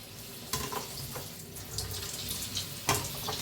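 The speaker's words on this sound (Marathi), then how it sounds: "वडे तळायला लागलेले आहे आपले" Vada batter frying in hot oil gives a continuous bubbling sizzle, steady and close, with a couple of sharper crackling bursts from the pan along the way.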